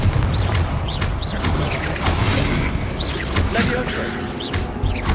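The Confringo fire spell cast in Hogwarts Legacy, a dense run of whooshing, crackling blasts and mechanical clanks repeating through busy game combat.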